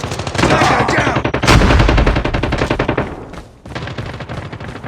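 Rapid shotgun and automatic gunfire from the mobile game Call of Duty Mobile, dense bursts of loud shots in quick succession with a brief dip before firing resumes.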